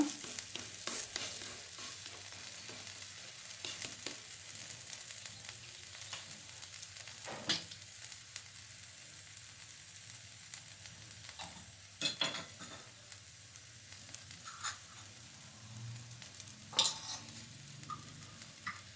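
A sweet corn aloo paratha cooks on a pan brushed with ghee, a faint steady sizzle broken by occasional clicks and scraping taps of a utensil, with no talking.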